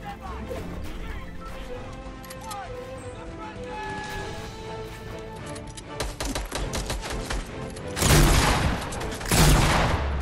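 Shotgun fire from a new heavy shotgun in Fortnite Battle Royale, several loud sharp blasts arriving late after a stretch of quieter game sounds, with faint talk underneath.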